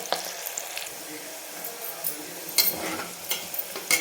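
Onions frying to golden in a pan for mutton masala curry, a steady soft sizzle with occasional scrapes and clinks of a spoon stirring, close and moderately quiet.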